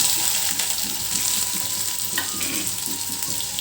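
Cumin and chopped onion frying in oil in a kadhai, a dense, loud, continuous sizzle with faint stirring scrapes, heard up close and alone.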